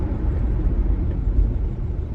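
Mazda Bongo camper van driving toward a roundabout, a steady low engine and road rumble heard from inside the cab, fairly loud and even throughout with no talk.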